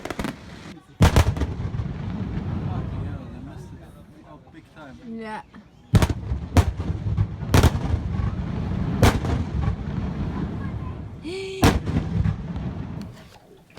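Fireworks burst close to a boat at night, sharp loud blasts going off one after another with crackling tails, while people talk and react nearby.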